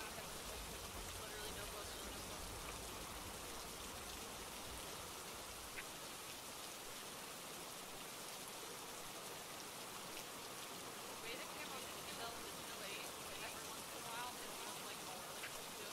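Steady rain in the horror video game Phasmophobia, a constant soft hiss of falling drops at low level throughout, without breaks.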